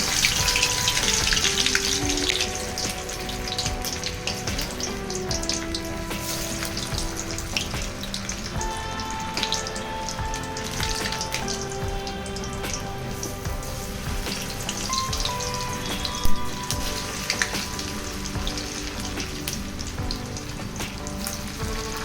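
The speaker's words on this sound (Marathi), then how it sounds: "तेल गरम झालेलं आहे आता आपण मध्यमाचे या वड्या तळून घेऊयात" Colocasia-coriander vadis fry in hot oil, a dense, continuous sizzling crackle that stays steady and close, with faint clinks and no voices.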